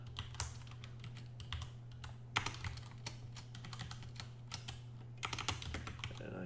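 Steady clicking of code being typed on a computer keyboard in bursts with short pauses, close and fairly quiet over a constant low electrical hum.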